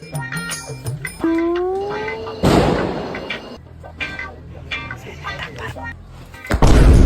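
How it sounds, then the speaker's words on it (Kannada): Sharp Diwali firecracker bursts, one loud crack midway and another at the end, mixed with a rising whistle and voices nearby. "ಮಚ್ಚ ಮೇಲೆ ಯಾರ ಪಟಾಕಿ ಹೊಡಿತವ್ರೆ"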